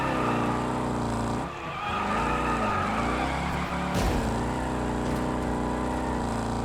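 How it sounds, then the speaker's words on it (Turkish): A car drifts in the video game Wreckfest 2, its loud engine droning steadily while tires squeal through the slide, with a couple of brief dips and sharp bumps, no talking. "Fena drift atarım."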